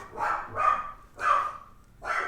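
A dog barks in short bursts, four sharp, fairly close barks spaced unevenly, heard alone in a quiet room.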